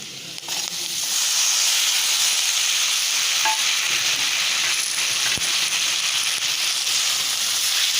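Chopped potato hits a hot pan of spices for a potato thoran, setting off a steady, close sizzle and hiss of frying that builds within the first second and holds on without any talk.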